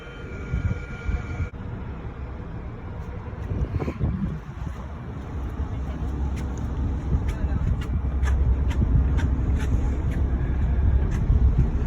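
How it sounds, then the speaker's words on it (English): A river cruise ship's motor drones steadily on the Rhine, growing louder over time, mixed with wind buffeting the microphone and a few sharp clicks. "I apologize for any engine noise,"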